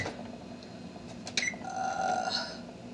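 An oven being switched on gives a couple of short button beeps and clicks. A faint, steady hum runs beneath them.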